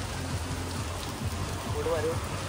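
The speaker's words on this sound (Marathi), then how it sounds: "इथं पाऊस बीस एकदम सुसाट आहे बघा. हा काय पाणी आहे बघा वरनं पडत आहे." Heavy rain pours down steadily outdoors at evening, a dense continuous hiss of water falling from above, with faint voices and low rumbling murmurs underneath.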